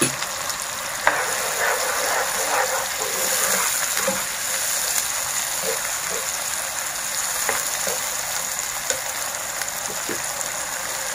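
Ginger-garlic paste hitting a hot pan of vegetables for veg dum biryani, a steady loud sizzle and frying hiss with light stirring scrapes, close and continuous with no talk.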